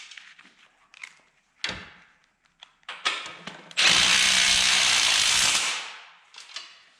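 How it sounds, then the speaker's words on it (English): A few clicks and knocks, then a power drill whirs loudly for about two seconds driving a self-threading fastener into a 1/4-inch hole before spinning down. "allow you to drill a little hole, 1/4 inch on this one"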